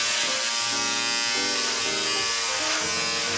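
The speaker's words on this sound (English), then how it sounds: "I should maybe shave Jossie's beard off" An electric shaver cutting off a man's beard during a Movember finale shave, a loud close continuous buzzing drone whose pitch shifts as it works through the hair, with no talking over it.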